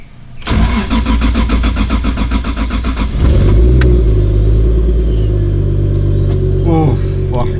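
A Mk3 Toyota Supra with a stock 2JZ engine built for over 600 wheel horsepower cranks for a few seconds, then catches and settles into a loud, steady, rumbling idle close by.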